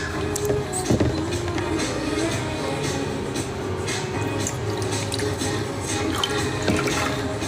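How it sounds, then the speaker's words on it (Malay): Water runs steadily at a water filling spot, a continuous splashing, dripping wash with a few louder knocks, heard at moderate level throughout. "Ini tempat isi air."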